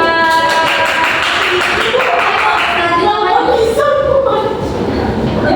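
Students in a classroom clap together for a classmate, giving a dense, continuous patter of applause close by with children's voices mixed in.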